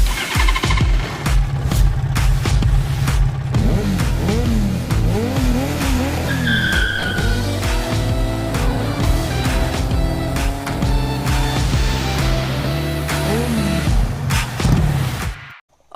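Cleveland CycleWerks Ace 250 motorcycle with a 250 cc single-cylinder engine, exhaust note revving up and down loudly and close for most of the stretch, with repeated throttle blips and no talking.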